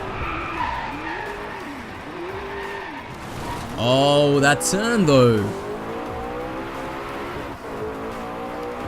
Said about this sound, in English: The engine noise isn't anything spectacular of this car, but it's still nice.